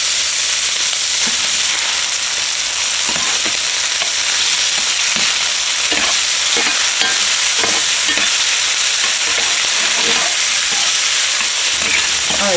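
Shrimp sizzle and fry in hot oil in a pan while they are stirred for chicken and shrimp fried rice. Loud constant hissing continues throughout, broken by repeated scraping knocks of the utensil.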